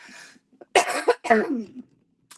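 A short burst of harsh coughs, two or three rough hacks in quick succession, close and loud.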